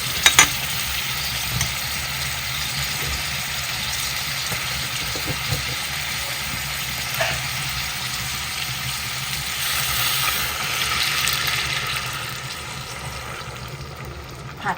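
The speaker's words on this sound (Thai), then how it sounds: "แล้วก็นำกระดูกหมูลงไปผัด" Pork bones stir-frying in red curry paste in a pan, with steady sizzling and frying hiss that runs throughout and a few soft clinks of stirring.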